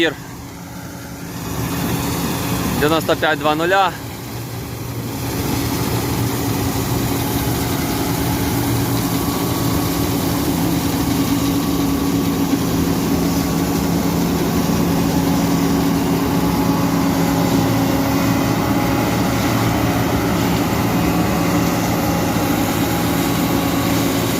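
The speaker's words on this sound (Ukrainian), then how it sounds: "Молотимо комбайном John" A John Deere combine harvester threshing rapeseed drones steadily and loudly throughout, with a brief burst of high-pitched sound near the start.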